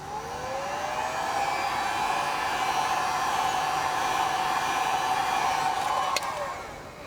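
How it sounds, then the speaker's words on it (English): A heat gun blows a steady, loud whirring rush of hot air while wrapping a Tesla Model 3 center console, running continuously with a slight pitch rise at start and a brief click near the end. "All right, yeah, heat gun for the win."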